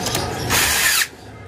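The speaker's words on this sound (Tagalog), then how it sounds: "Yun nga lang, sumasabay yung drill kapag mahigpit na." Cordless drill driver tightening a fastener with a socket, one close, loud whirring burst of about half a second that cuts off sharply, with quieter mechanical noise before and after.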